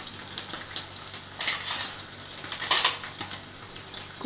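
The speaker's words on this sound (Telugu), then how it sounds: "నూనెలో ముందు మనం ఉడకబెట్టిన రొయ్యలు మళ్ళీ నూనెలో ఎలా బాయిల్ అవుతున్నాయో చూడండి" Prawns, boiled beforehand, frying in hot oil for a garlic prawn dish, giving a steady close crackling sizzle with bright spitting pops and occasional stirring scrapes, no voices.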